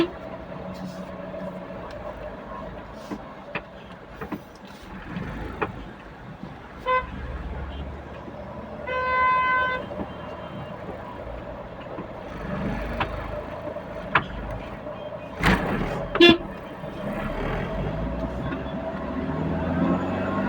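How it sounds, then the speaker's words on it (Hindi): Traffic jam on a road in Saudi Arabia, with car horns tooting intermittently amid steady engine and road rumble, a few short honks standing out near the end over a constant background din. "ट्रैफिक लगा है, अब धीरे धीरे गाड़ी बहुत ही जाएगी।"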